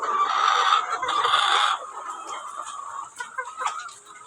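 Hens cluck and call loudly close by in a farmyard where eggs are collected, giving a busy run of overlapping squawks that eases to softer scattered clucks toward the end.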